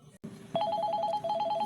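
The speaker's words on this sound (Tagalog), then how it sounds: "Ti cellphone ko." A cellphone rings with a repeating electronic trill of short bright pulses that begins after a brief thump, steady and fairly close in an indoor scene.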